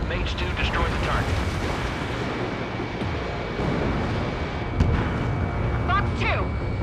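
Missile explosions and aerial combat in the Ace Combat 7 flight game, dense booming blasts and jet roar layered continuously, with a sharp burst near the end and radio voices talking over the action.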